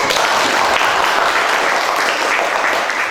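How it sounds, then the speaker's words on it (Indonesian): Students in a classroom applaud together, a steady wash of clapping that stays dense and even for about three seconds without pausing. "Kita beri aplaus dulu."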